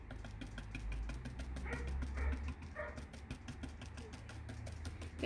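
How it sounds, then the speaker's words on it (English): A dog barks outside in a quick series of repeated barks, fairly close and moderately loud, with no talking over them. "That dog scared me"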